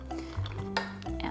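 Coriander gets stirred into water flavored with thinly sliced organic lemons and lime, a brief soft swish with light clinks against a steady tonal background.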